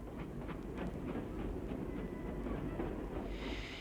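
Continuous rumbling and rhythmic rail clatter of a train at London's Euston Station, steady and fairly near with no voices, as recorded in 1956.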